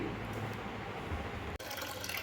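Navara rice grains being washed in water, a steady close splashing and trickling of water through the grains that continues throughout, with a brief gap near the end before the sloshing resumes.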